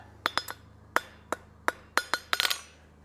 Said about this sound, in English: Stop your yammering and get to hammering, Roy.